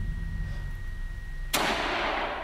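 A single sharp burst of gunfire from a weapon in a polygon-style video game, loud and sudden after quiet ambient background, with a decaying noisy tail.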